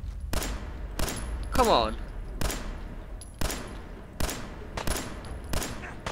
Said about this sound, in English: the pistol's way better than the rifle I used before